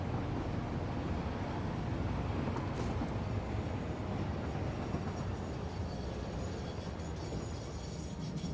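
A train running in a video game, a dense continuous rumble and rolling rattle at a steady level throughout, with no talking.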